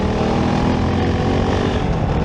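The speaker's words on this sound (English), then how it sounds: "the engine and also the tires, they are quite noisy" Kove 450 Rally Euro 5 motorcycle engine and tires while riding, a loud, constant droning roar with steady road and wind noise throughout and no talk.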